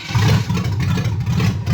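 A station wagon's engine cold-starting for the first time in three years, catching and running with a loud, steady low rumble and slight clatter throughout, close by.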